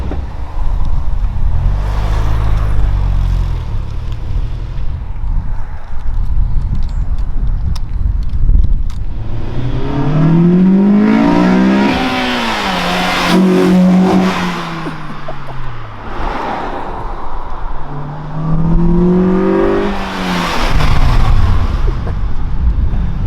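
A Honda Civic Si fitted with an HKS exhaust makes a street flyby in Santa Ana, the exhaust rising from a low rumble to loud revving sweeps as it accelerates past, with a second surge near the end.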